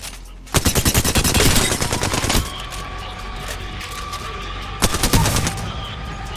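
R99 submachine gun in Apex Legends firing in two loud, rapid full-auto bursts, a long one of about two seconds and a shorter one near the end, separated by a low steady hum.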